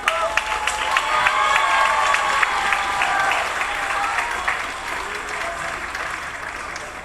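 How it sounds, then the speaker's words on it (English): Sustained applause from an audience at a 4th and 5th grade school band and string concert, a dense wash of clapping with a few voices mixed in, steady and then gradually thinning toward the end. "get a round of applause, please, people."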